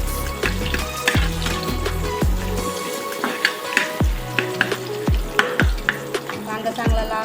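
Chopped onion sizzles loudly in a hot pan for Schezwan fried rice, a steady frying hiss broken by repeated sharp scraping strokes of a spatula stirring the pieces, close and without talk.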